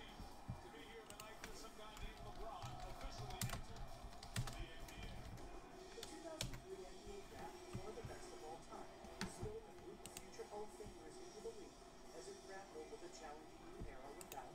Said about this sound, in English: Let's start typing these in.